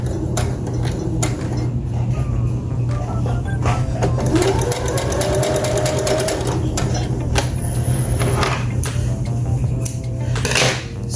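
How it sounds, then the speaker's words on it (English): A sewing machine back-stitches a seam on baby sarouel pants, its steady motor whirring loud and close throughout with faint clicks and handling noises on top. "Back stitch."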